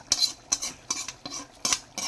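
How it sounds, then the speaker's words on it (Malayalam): Fried onions stirred into a thick beef curry in a clay pot, four or five distinct scraping strokes of a spoon against the pot over a faint background sizzle, close and clear, no voices. "നമുക്കിനിത് വറുത്ത് വെച്ചിരിക്കണ ഉള്ളി ഇട്ട് കൊടുക്കാം"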